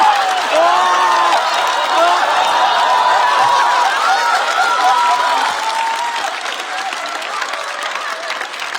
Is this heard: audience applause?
yes